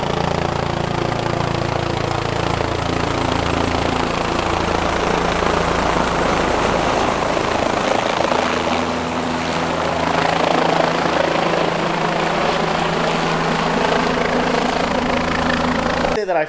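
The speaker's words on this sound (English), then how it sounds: "apparently they're landing 2 choppers on the highway right now" A loud, close helicopter landing on a highway, its rotor thumping and engine whining steadily, the pitch shifting slightly as it descends and settles.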